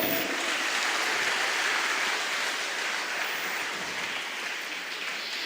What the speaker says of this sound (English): Please give a huge round of applause for her again.